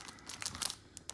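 Wrapper of a 1991 Leaf Series 2 baseball card wax pack crinkles and tears in a short burst of close, sharp crackling rustles, with a couple of faint final crinkles, no talk.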